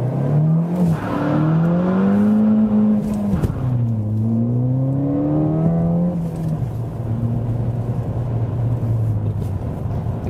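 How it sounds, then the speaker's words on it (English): A Ford Fiesta RT launches hard from about 4000 rpm with wheel spin, its engine note climbing steeply through the gears with brief drops at each shift, loud and close from inside the car. "Of course, we had a lot of wheel spin now, but just to get an impression of the acceleration."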